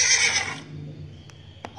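A horse gives a brief high whinny up close, fading into quiet with a couple of faint knocks afterward.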